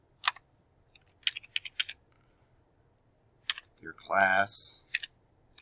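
A name is typed on a computer keyboard, giving short bursts of crisp key clicks with pauses in between, while a voice briefly speaks over the typing.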